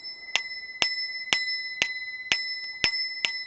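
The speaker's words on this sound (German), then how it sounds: "Die Glocke." A bicycle bell rings seven times in an even rhythm, each bright metallic ding decaying briefly, close and clear with no talking.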